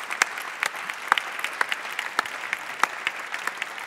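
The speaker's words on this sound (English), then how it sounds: "the applause once again is not to me, but to the fantastic CPDP team" Conference audience applauding at the closing session of a privacy and data protection event in a hall, steady dense clapping with sharp individual claps standing out, no talk over it.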